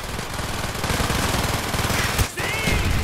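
Mortar strikes in Call of Duty: Black Ops during the Project Nova mission, a dense barrage of rapid blasts and gunfire rattling continuously and loudly, with one sharp impact near the end.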